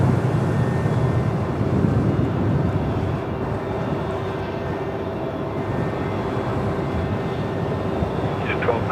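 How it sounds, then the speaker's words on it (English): An Airbus A350 airliner taxis toward runway 27 at Melbourne Airport, making a steady, moderately loud engine drone with wind rumble and faint voices in the background. "The A350 is going to runway 27, so we'll pick that up again soon."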